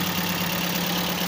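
A 2007 Toyota Vios engine idles steadily with a dense, unchanging drone, its revs holding flat despite the throttle, loud and close with no talk.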